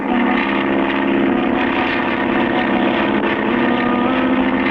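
In a Clutch Cargo cartoon, Cargo's propeller plane flies past with a steady, loud, droning engine hum that stays level throughout, with no talking.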